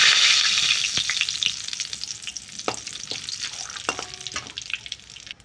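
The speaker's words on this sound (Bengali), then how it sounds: "তো এই তেলেই আমি জিরে আর তেজপাতা দিয়ে দেবো।" Cumin seeds and bay leaves tossed into hot oil left over from frying pangas fish give a loud, steady sizzle with sharp crackling pops that ease slightly over time, with no voices.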